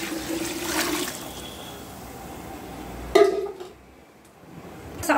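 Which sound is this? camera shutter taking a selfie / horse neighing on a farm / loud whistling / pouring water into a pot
pouring water into a pot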